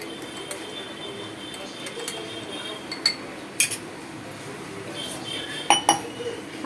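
A spoon stirring chia seed water in a glass, giving light scattered clinks and taps against the glass, faint and intermittent over a quiet background.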